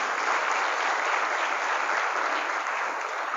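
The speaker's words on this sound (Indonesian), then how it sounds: "tepuk tangan buat mereka berenam hari ini" A seminar audience at an Islamic boarding school claps steadily for a few seconds, a dense, even wash of applause from many hands, close and continuous with no voices.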